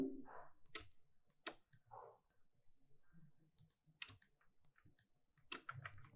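Computer keyboard keys pressed in short irregular bursts of sharp clicks, quiet and close, while someone works through Photoshop shortcuts; no talk during the typing.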